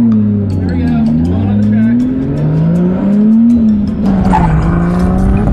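A car drifting around a track with a shock-collar driver, engine note rising and falling steadily while tires squeal, with speech heard over the continuous noise.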